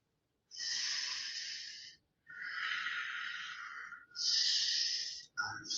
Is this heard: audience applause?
no